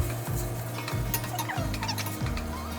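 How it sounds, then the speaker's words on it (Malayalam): Chopped tomatoes and ginger being stirred in a pan while making a Kerala crab roast, with a few spoon scrapes against the pan over a steady low sizzle. "അതിലേക്ക് മുറിച്ച് വെച്ച ടൊമാറ്റോസ് ഇട്ട് കൊടുത്ത് നന്നായിട്ട് പിന്നെയും ഇളക്കാം."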